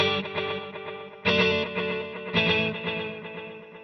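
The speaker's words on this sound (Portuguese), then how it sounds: "O Kill Dry mata o meu som limpo. Só tenho agora o reverb e delay" Electric guitar run through a Strymon Volante with the dry signal killed, leaving only reverb and delay: two swelling chord strikes bloom into long, washy echo tails that decay and smear together, no voice present.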